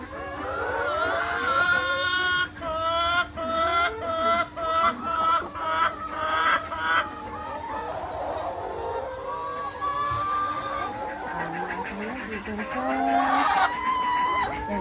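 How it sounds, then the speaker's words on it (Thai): Chickens on an egg farm cluck repeatedly in a dense, continuous chorus, with bursts of rhythmic clucking and squawks rising over steady barn noise and a voice speaking briefly. "ไก่อย่างนี้"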